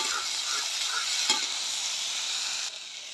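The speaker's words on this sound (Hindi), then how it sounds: "कद्दू के साथ में इसे भी चला देंगे।" Boiled chickpeas and potato pieces being stirred with pumpkin in a hot pan for a Bhandara-style sabzi, with steady close sizzling and frying throughout and light scraping.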